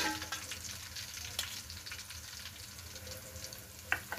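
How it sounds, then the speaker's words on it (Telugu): Onions with kasuri methi sizzle in hot oil for a chicken dum biryani, a steady, fairly quiet frying hiss with occasional louder pops and crackles and no talking. "ఇప్పుడు బ్రౌన్ అయ్యే ముందు ఆనియన్స్ ఇందులోకి కస్తూరి మేతి వేసి కొద్దిగా ఫ్రై చేస్తుంది."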